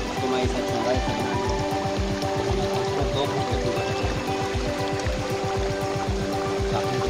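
Baghmara waterfall in Jashpur roars steadily as a continuous broad rush of falling water, loud and close, with no pauses, alongside a rhythmic low pulsing that runs throughout.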